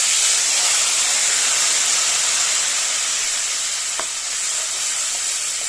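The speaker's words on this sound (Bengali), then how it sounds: "ভালো করে মশলাটা ভেজে নেবো" Spice paste with black cumin fries in fish oil for a bhola fish coriander curry, a loud, steady close sizzle and hiss with one faint clink of a utensil partway through.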